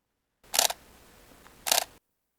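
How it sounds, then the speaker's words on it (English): A Canon M6 Mark II mirrorless camera fires its shutter twice, each actuation a sharp, loud mechanical clack about a second apart, with near silence between. "the M6 II is actually pretty loud for a mirrorless camera"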